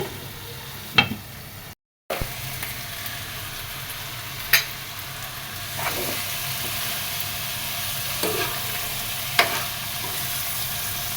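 Onions with salt frying under a lid in a pan give a steady, moderately loud hiss with a few sharp clinks and knocks scattered through, and one brief dropout.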